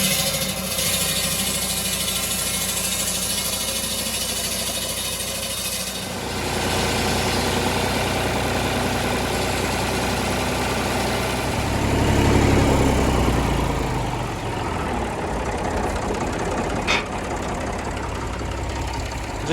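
A Massey Ferguson 35x tractor engine runs steadily with a low, throbbing idle, close and continuous, its tone shifting partway through as the load changes and swelling briefly louder before settling again.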